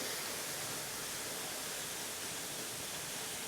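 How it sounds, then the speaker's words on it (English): A waterfall spills beside the gardens of Luccombe Hall Hotel in Shanklin on the Isle of Wight. It makes a steady, even rush of falling water with no voices. "you're confronted with a really beautiful waterfall"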